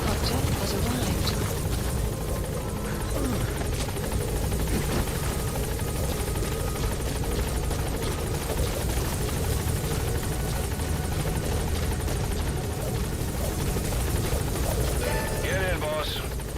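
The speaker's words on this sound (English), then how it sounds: "Support helicopter has arrived." Support helicopter arriving in the video game Metal Gear Solid V, a continuous rotor thrum and engine rumble that holds steady throughout, with radio-style voices talking over it.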